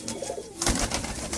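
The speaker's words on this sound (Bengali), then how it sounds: "অনেক পায়রা, কি বিগ সাইজ পায়রা" Large pigeons at night coo in a low, throaty burble up close, with a rustle of movement partway through.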